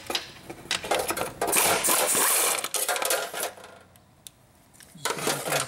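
Shifter bolts from a VW Jetta mk4 dropping after removal, a scatter of small metallic clinks and rattles, close and fairly faint, with brief bursts of jangling and gaps of quiet between them.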